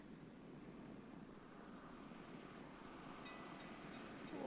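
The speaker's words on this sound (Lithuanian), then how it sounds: "O, traukinys." A train rolls past in a video game as a faint, steady low rumble that swells slightly toward the end.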